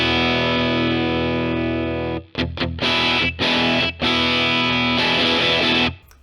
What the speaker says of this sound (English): So that's a pretty good guitar tone right there